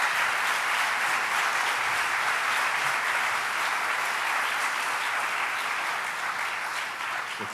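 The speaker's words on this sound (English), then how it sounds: "A round of applause for our panelists tonight." Sustained applause from an audience for a panel discussion, a broad, even roar of clapping that continues without a break and eases slightly at the end.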